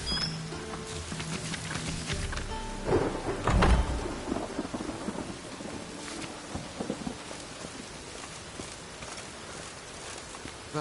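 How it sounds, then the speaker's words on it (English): Steady heavy rain pours down during a thunderstorm in The Witcher 3, with a loud, close rumble of thunder partway through and the downpour continuing throughout. "A storm, damn it."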